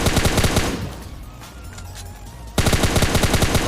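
Automatic gunfire from PUBG Mobile Lite: a loud rapid burst, a short quiet pause, then another sharp rattling burst close up.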